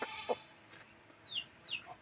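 Chickens chirp and call in a quiet outdoor setting, a few brief high peeping notes rising and falling at a moderate distance, with faint clucks earlier and no talk.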